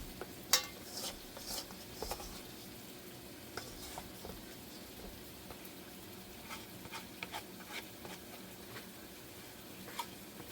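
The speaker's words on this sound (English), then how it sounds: "I'm using a spoon to mix up" A spoon works biscuit dough in a bowl in a steady, quiet mixing rhythm of soft scrapes and light taps, fairly faint and with no talking.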